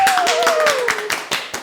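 A small studio audience claps in a quick, uneven burst of distinct hand claps, close and fairly loud, with a voice briefly trailing off underneath.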